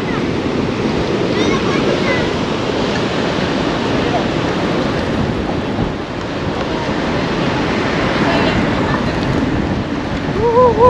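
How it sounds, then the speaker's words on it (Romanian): Ocean surf pounds a black sand beach at Constitución, Chile, in a loud, continuous wash of breaking waves with strong wind buffeting the microphone throughout. "Wow, ce valuri!"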